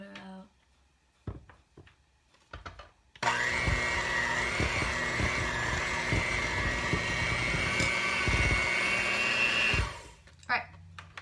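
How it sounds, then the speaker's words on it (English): A kitchen blender creams butter and sugar for cookie dough, a loud, steady motor whir that runs for about six seconds between quieter handling clatter at the start and end. "I'm actually just gonna blend it up for a few more minutes"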